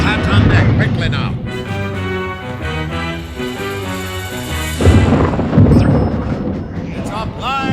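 Loud rolling thunder booms in a stormy night scene from an animated Mark Twain adventure film, with dramatic orchestral music playing steadily over the rumbles and a second big crash near the end.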